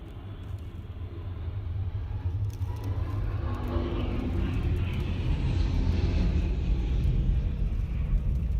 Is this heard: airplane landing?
yes